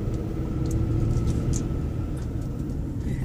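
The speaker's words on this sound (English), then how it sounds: "a little bit of traffic here" Road traffic goes past on a rural road in the middle of nowhere, a steady low rumble of a car engine that stays fairly distant and even, with no talk over it.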